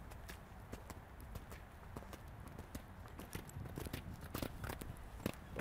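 Horse hooves clip-clop in a quick, even rhythm during riding training over obstacles, each strike fairly faint and distant against a soft background, with no talking.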